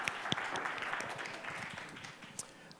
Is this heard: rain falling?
no